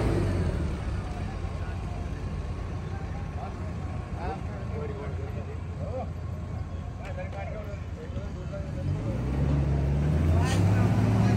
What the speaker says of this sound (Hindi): गाड़ी जो पूरा पावर लगाती हुई थार